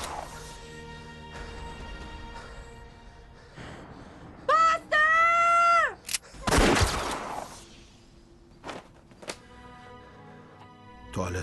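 A burst of gunfire cracks out mid-scene, with a few sharp loud shots scattered among tonal music and clatter, heard under brief raised voices in a comedy sketch.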